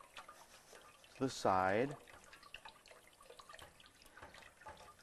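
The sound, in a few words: water rinsing soil sample over a sieve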